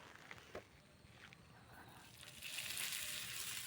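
Oil poured into a pan of bitter gourd gives a faint, low sizzle that swells noticeably louder toward the end.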